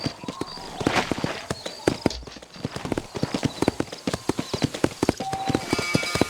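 Horse hooves clip-clopping steadily in the Red Dead Redemption video game, a brisk, close, even rhythm of hoof strikes continuing throughout with faint ambient noise underneath.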